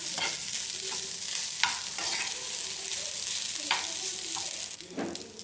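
Carrot rice being mixed evenly in a pan after salt is added, with a soft continuous sizzle and periodic scraping strokes of a spoon against the metal. No one speaks.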